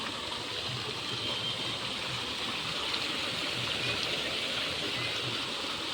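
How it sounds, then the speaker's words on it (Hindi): Dirty water pours down from inside a structure in a park, a steady, even rushing and splashing that holds without a break, with no voices. "गंदा पानी है वो, अंदर से गिर रहा है।"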